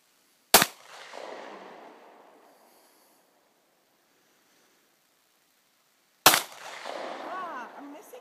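Two sharp handgun shots fired at a target outdoors, several seconds apart, each a loud close crack followed by a fading echo, with quiet between them.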